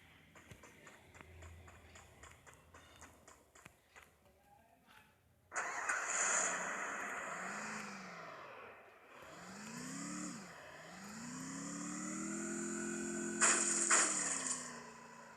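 An engine starts, then a car revs and accelerates while driving in the Free Fire video game, its engine pitch rising and falling through several gear-like sweeps, loud and continuous after a quieter opening.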